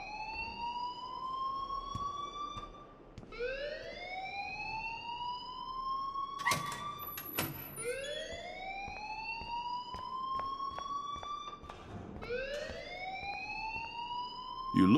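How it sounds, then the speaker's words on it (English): A school fire alarm rings in the Life is Strange video game, its rising electronic wail repeating about every three seconds, steady and loud throughout, with a few sharp clicks in between and no talking. "please turn off that alarm since that's your job"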